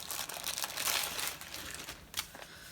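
Paper packaging for a diamond painting kit crinkles and rustles as it is pulled out, a close, fairly loud continuous crumpling with a sharper crackle near the end.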